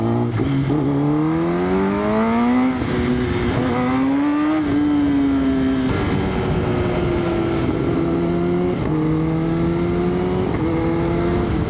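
A Kawasaki ZX-10R motorcycle engine revs loudly and continuously, its pitch climbing and dipping through repeated throttle pulls as it rides along.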